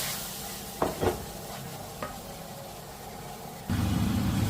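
Apple pickle masala being sautéed and reduced in a pan: a soft, steady sizzle with a few scraping stirs, then a louder, fuller frying hiss near the end, with no voices.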